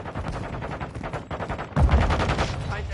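Rapid automatic gunfire in Call of Duty: Modern Warfare II, steady bursts that swell louder with heavy low booms partway through, mixed with game sounds and faint voices.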